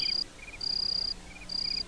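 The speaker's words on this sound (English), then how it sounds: "enter the woods, beware of the crickets" Crickets in the woods chirp in three high, thin trills, each lasting about half a second and separated by short pauses, faint against a quiet background.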